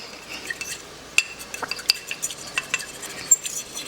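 A metal whisk scrapes and clinks sharply against a pan in quick, irregular strokes while mixing orange chicken sauce, close and bright, with no talking.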